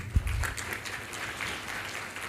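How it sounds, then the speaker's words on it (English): Brief audience applause after a professor's presentation at an academic session, a short, moderately faint patter of clapping with a single low thump at the start. "So another round of applause to Prof."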